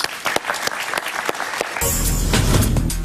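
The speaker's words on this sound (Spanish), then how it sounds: "Un aplauso para él." A studio audience on a Spanish-language talk show applauds a guest novelist, a few sharp claps and some talk first, then a sudden loud swell of sustained applause that carries to the end.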